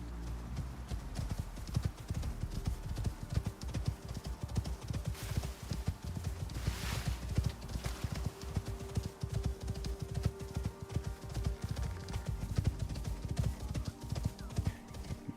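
A horse's hooves clip-clop steadily in the video game Icarus, a continuous rapid rhythm of close, fairly loud footfalls with an occasional faint whinny.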